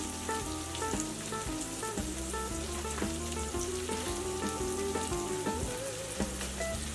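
Beef sausage frying with onions and bell peppers in a pan, a steady close sizzle and crackle running continuously under background music.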